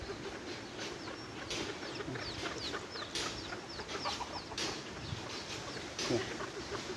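Chickens cluck and call sporadically while sunbathing in an outdoor temple yard, with a steady background of farm ambience and occasional short bird sounds.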